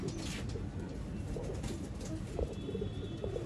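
Pigeons kept for sale in Bangalore coo softly in a low, muffled burble, several murmuring calls repeating over steady background noise, with no talk.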